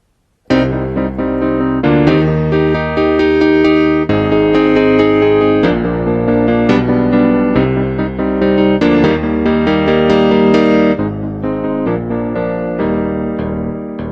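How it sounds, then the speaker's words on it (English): Bright Yamaha CP80 electric grand piano playing chords and a melodic line, sustained and full, with no voices. "That is the sound of a CP80"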